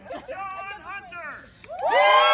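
Crowd at a Wacky Races event at a fan convention shouts and whoops for a rider, loose hollering voices that swell into a loud cheer near the end.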